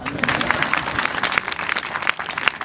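An outdoor crowd claps at a January Margazhi arts festival in the Urur Olcott Kuppam fishing village, with dense, lively hand claps close by and steady throughout.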